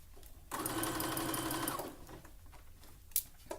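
A sewing machine runs a triple stretch stitch through knit fabric in one steady, close burst of about a second and a half, then stops, leaving quiet handling noises and a couple of small clicks.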